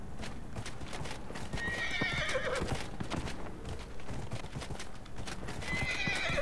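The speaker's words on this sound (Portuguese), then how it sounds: "cavalo com chifre aqui." A horned horse mount gallops in Dragon Age: Inquisition, its quick steady hoofbeats clattering throughout with whinnies and neighs over game ambience, and no talk.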